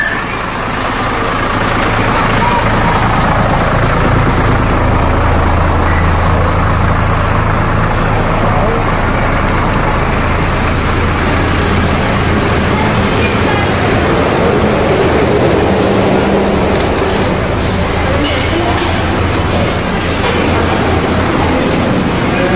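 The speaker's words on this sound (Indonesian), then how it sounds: "Ini busnya parkir di pinggir jalan kayak gini." A tour bus parked at the roadside runs its engine with a steady, loud rumble and broadband noise that holds throughout, with faint background activity and no clear talk.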